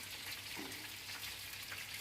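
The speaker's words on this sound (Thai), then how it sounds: "หนังไก่นี่ทอดให้มันเหลืองๆ นี่คือทอดเสร็จแล้วค่ะ" Steady, crackling sizzle of chicken skin frying in a little oil, quiet and continuous, with no voices.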